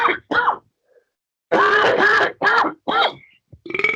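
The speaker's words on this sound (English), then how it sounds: "Did you just burp and cough at the same time?" A man burps and coughs at once, producing a few rough, croaky, gulping grunts close up, with short pauses between them.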